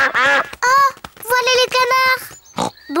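Cartoon ducks quack in short bursts over a children's animated farm scene, the calls close and loud, mixed in with a voice speaking.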